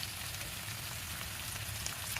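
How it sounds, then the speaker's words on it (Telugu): Sliced onions frying in hot oil in a pan for a ridge gourd and tomato curry, seasoned with salt and turmeric, giving a steady, dense sizzle that runs unbroken throughout. "ఫ్రై అవుతుంది ఆనియన్స్."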